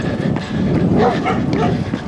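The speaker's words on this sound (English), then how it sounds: "Oh, hey, dog." An excited dog barks and yips in short bursts close to the camera outdoors, its voice mixed with breathy movement noise.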